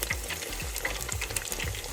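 Croaker fish frying in a pan of hot oil, a close, steady sizzle with scattered crackles and pops and a few low scraping stirs, no talk.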